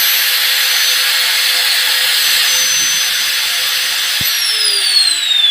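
An electric angle grinder whines at a high, steady pitch while powered through an anti-trip household power limiter, running loud and continuous, with a brief spin-down shift in tone near the end.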